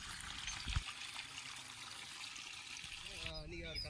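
Water trickling and spraying steadily from an irrigation rain hose laid in an areca nut and papaya plantation, a continuous close hiss with a brief louder splash near the start.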